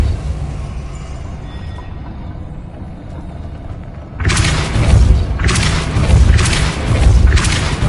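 Depulso force spell cast in the Hogwarts Legacy video game, a loud booming blast that hits at once and then repeats in three or four heavy thumping bursts over a low rumbling background.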